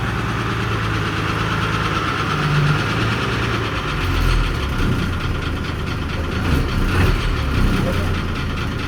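A city bus engine in Surin runs at a steady idle, a continuous low rumble with a faint knocking texture throughout, while voices murmur in the background.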